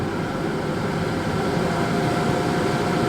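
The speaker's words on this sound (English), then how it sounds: "we can run this air conditioner off battery" Air conditioner in a Coachmen Beyond 22CEB camper van running on battery at full fan speed, a steady broadband whoosh of blowing air with a low hum, constant and fairly loud throughout with no talking.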